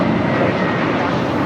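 An American Airlines Airbus A321 jet at Los Angeles International Airport gives a brief, loud, steady engine roar.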